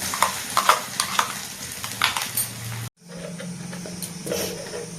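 A spoon scrapes and stirs through a green pea paste filling in a hot pan, with steady sizzling underneath and a brief pause partway through.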